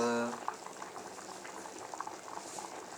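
Water boiling in a pot for cooking rice, a soft bubbling hiss with occasional pops, close by and continuous after a brief voice at the start.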